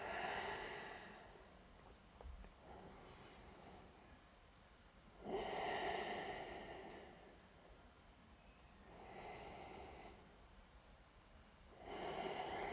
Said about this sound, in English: Take 3 deep breaths in and out here.